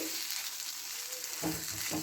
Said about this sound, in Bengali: কড়াতে আমি ননস্টিক কড়া নিয়েছি আমি একটু নেড়ে নিচ্ছি